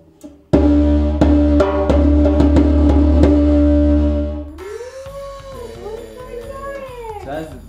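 A homemade instrument called the Doom Bell gives a loud, sustained metallic ring with a few repeated strikes. It then fades into a lower, wavering, moaning tone.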